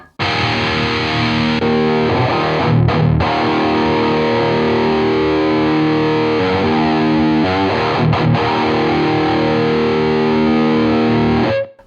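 Heavily distorted electric guitar chords ring out loud and sustained through an ENGL Savage 120 MK II amp in its smooth mode, with a couple of brief breaks between strums.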